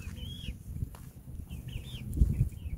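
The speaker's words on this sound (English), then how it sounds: "So here's the little chickies exploring." Small backyard chickens, young hens and a little rooster, give soft intermittent clucks and chirps at close range over low rustling and ground noise, with no talking.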